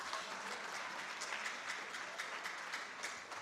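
An audience claps steadily for students being welcomed onstage at a knowledge competition award ceremony, a dense, even round of applause heard alone from a distance with no voices over it.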